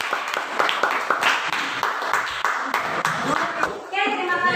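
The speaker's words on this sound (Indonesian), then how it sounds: "Tepuk tangan buat kelompok 1." A small classroom group claps for a presenting team during a grade 9 religious education lesson, the rhythmic applause lasting about four seconds before a voice starts speaking.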